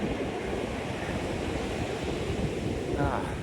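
Ocean surf washing onto the shore at McLoughlins Beach on 90 Mile Beach, a steady broadband roar of breaking waves with wind noise, close and continuous throughout.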